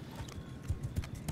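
Cavalry horses in a strategy video game, a brief burst of quick, rhythmic hoofbeats clopping at fairly low volume.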